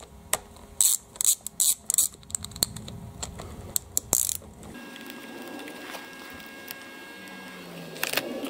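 A ratchet clicks in quick, sharp bursts, then in sparser single clicks, as it backs out the Allen screws on the valve cover of a Honda CB750 motorcycle engine, followed by quieter handling.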